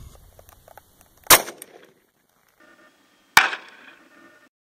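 Two sharp, close pistol shots about two seconds apart, from .40 S&W Polycase Inceptor ARX plastic bullets fired into ballistic gel, each with a brief ringing tail and near silence between them.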